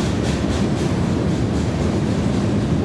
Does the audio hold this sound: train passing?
yes